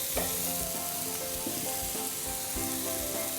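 Mushrooms and masala sizzle steadily in a frying pan for paneer tikka, a loud continuous hiss with occasional clinks of stirring and no voices.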